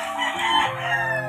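Chickens and a rooster crowing somewhere behind a building, a single crow with harmonic bands rising and falling over a steady background of clucking fowl, moderately near and with no talking.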